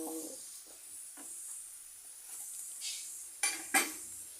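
Fresh curry leaves stirred into hot oil in a pan while making a garlic pickle, with a soft steady sizzle and a few light scrapes and clinks of a spoon against the pan.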